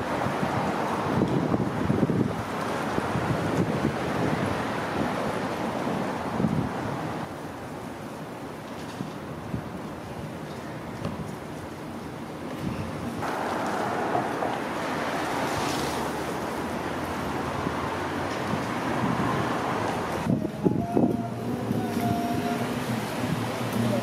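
Wind blows steadily outdoors during setup for a city parade, a continuous broadband rush buffeting the microphone with gusty swells and no clear speech.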